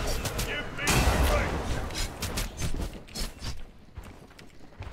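Loud, chaotic bursts of explosions and gunfire from the video game Odin crackle and boom, with a big blast near the start and sharper shots scattered after.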